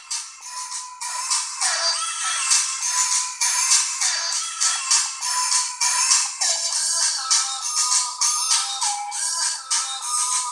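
A ringtone plays through the small built-in speaker of a Nexus 7 2013 tablet, a steady, bright, thin melody running continuously with no bass and moderate loudness.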